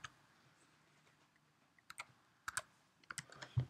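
Keystrokes on a computer keyboard while an IP address is entered, scattered clicks that become quicker, close-up clusters of typing toward the end in a quiet room.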